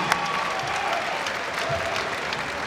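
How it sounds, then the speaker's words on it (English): Crowd at a BAMMA mixed martial arts event applauding both fighters after the bout goes the distance, a sustained moderate roar of clapping and crowd noise with faint voices mixed in. "how about a big round of applause for both fighters as they go the distance?"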